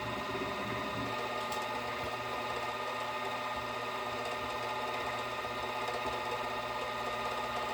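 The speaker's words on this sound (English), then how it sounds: "I'll run her down, fire up my lathe or my mill" A machine-shop lathe or mill runs steadily with a continuous motorized hum and whir, fairly faint and unchanging throughout, with no voices.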